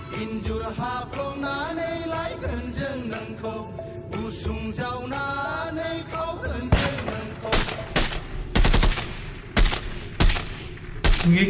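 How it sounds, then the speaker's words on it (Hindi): Gunfire from a movie trailer crackles in a rapid series of sharp bursts, loud in the second half after a stretch of music and voices. "ये फायरिंग क्यों?"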